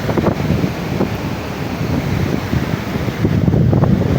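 Strong waves in the typhoon-stirred sea at Hagna, Bohol roll in as a continuous loud roar, heavily buffeted by wind noise across the microphone.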